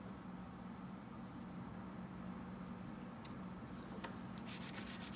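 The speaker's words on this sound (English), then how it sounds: "ideally, you sand everything to 220 until you can't really see that halo anymore" Flush rivet being sanded flat with 220-grit sandpaper: a steady, close, dry abrasive rubbing runs continuously, with sharper scratchy strokes toward the end.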